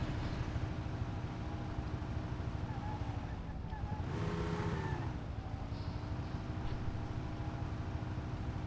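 An old 1930s-style car in the Mafia video game, slowly climbing uphill to Oak Hill: a steady, labouring engine drone that swells briefly mid-way, with faint speech now and then.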